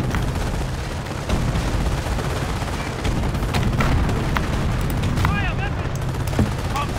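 Dense battlefield gunfire and explosions from the 2009 WWII strategy game Company of Heroes: Tales of Valor, with rapid machine-gun bursts, rifle cracks and heavy booms rolling continuously throughout, loud and layered with no break.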